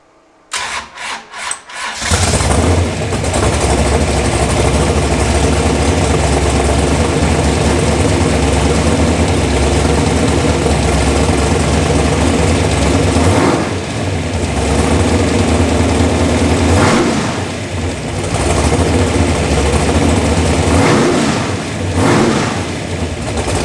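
A 700-horsepower Chevrolet Nova drag car engine cranks in a few quick turns, then fires and roars loudly at close range, holding a rough, steady idle with several blips of revving throughout.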